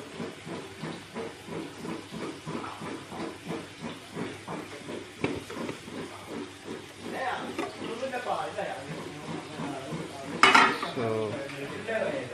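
Tapioca pudding being turned over in a pan, with metal utensil scrapes and clinks against the cookware over a steady sizzling hiss, while someone talks throughout.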